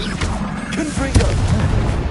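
Fiery Confringo spell blasts from Hogwarts Legacy gameplay, a dense booming explosive rumble with a sharp burst near the middle, layered over continuous combat noise.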